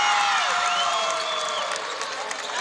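Crowd from Windham cheering loudly in a gym during a boys' and girls' basketball final, a dense wash of applause with high shouts and whoops rising over it, sustained throughout and gradually easing.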